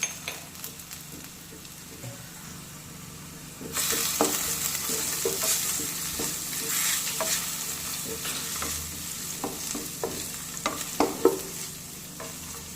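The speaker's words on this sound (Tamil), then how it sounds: "கருவேப்பிலை, பச்சை மிளகா ரெண்டையும் ஆட் பண்ணி நல்லா கிளறி விட்டுக்கலாம்" Onions, curry leaves and green chillies stirred and sizzling in a pan while cooking potato rice, a soft fry at first that turns louder with clattering stirring strokes and sharp crackles.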